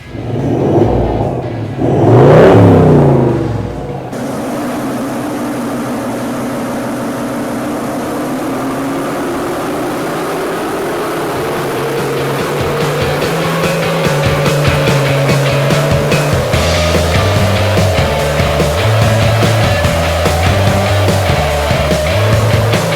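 A Toyota LC79 truck on a dyno with a 5-inch dump pipe into a 4-inch exhaust, first a couple of sharp revs, then a long, steady climb through the rev range, loud and deep throughout.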